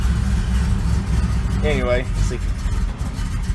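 A 1972 Chevy C10 pickup engine with low oil pressure idling steadily and close by, a continuous low rumble running under brief speech from a man.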